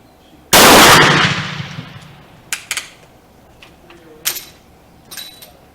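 A single loud, close rifle shot from a Springfield cadet trapdoor fitted with a replacement barrel, with a long ringing decay, followed by faint clicks and small handling noises.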